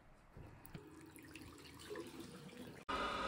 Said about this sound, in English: right now I'm running the hot tap